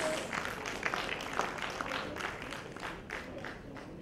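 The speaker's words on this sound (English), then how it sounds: "I think she needs a bigger round of applause." Audience at an education summit and awards ceremony in Gurgaon applauding an award recipient, a steady wash of clapping throughout, moderately distant with some crowd murmur mixed in.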